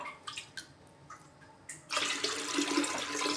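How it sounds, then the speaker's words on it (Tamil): Water poured into a clay pot while making pongal, with soaked rice and moong dal already inside; a few light splashes give way to a steady, close rushing pour for the last second and a half. "ஒரு 6 கிளாஸ் தண்ணி ஊற்றிக்கலாம்."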